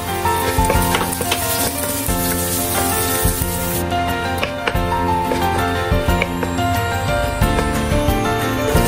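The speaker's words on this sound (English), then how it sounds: "stir-fry dried shrimp" Dried shrimp frying in a hot pan give a loud, dense, continuous sizzle with quick scattered crackles and light stirring, close up and without talking, under steady tonal background music.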